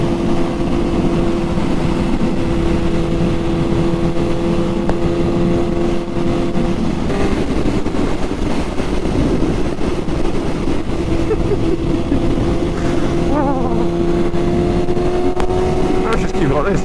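Suzuki GSX-S750 motorcycle with a Power Commander 5 fuel module accelerating in second gear, a loud continuous engine drone with rising pitch near the microphone, wind roar throughout.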